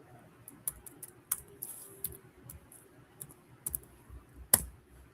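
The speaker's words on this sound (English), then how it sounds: "I'm just typing it in." Scattered, faint clicks of typing on a computer keyboard come in irregular bursts with pauses, a few sharper taps standing out over quiet room noise.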